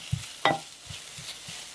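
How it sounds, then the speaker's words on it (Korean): Sliced onions stir-fry in a pan with a tablespoon of oil, and a pinch of salt: soft sizzling under a few quick scraping stirs and light taps of a utensil against the pan. "채썬 양파를 넣고 소금 약간만 뿌린 다음 양파의 향이 올라올 때까지 볶으시고요"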